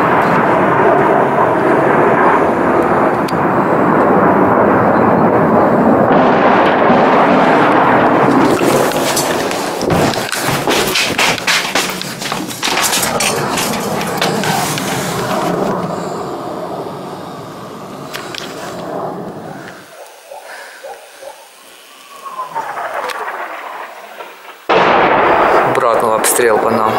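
Artillery shelling in the village of Horenka, Kyiv region, during wartime: heavy booming blasts and rumbling impacts, one after another, with loud broadband bursts and a long roar; voices talk at times between the explosions.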